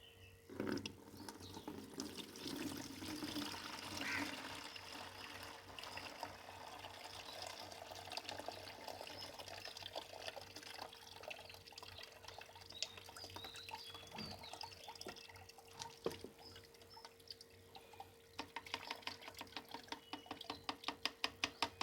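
Liquid plant fertiliser for hibiscus being strained into a large bucket, a steady wash of pouring and trickling water with soft drips and splashes, fairly quiet and close, with no talking.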